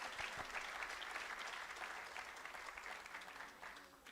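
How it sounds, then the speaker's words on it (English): Applause from a temple audience at a fiftieth-anniversary celebration, a steady dense wash of many hands clapping at moderate distance that holds for the whole stretch and eases slightly at the end. "Let's give them a round of applause."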